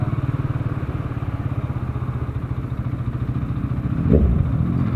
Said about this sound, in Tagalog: Ganito yung motor ni Robin Padilla noong 90s.